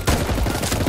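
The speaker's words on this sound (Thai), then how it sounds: "เสียงปืนโคตรดังอ่ะ" Dense, rapid gunfire from the Roblox game Tower Defense Simulator, a loud continuous fusillade of overlapping shots with no pauses and no talking.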